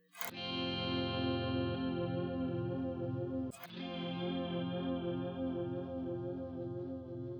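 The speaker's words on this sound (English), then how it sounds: "Auto Swell is what it sounds like, automatically raises the volume or swells the volume" Guitar through a Mobius pedal's Auto Swell setting, two sustained chords that fade in smoothly from silence and hold with a wavering modulated shimmer, the second entering after a short break, played alone.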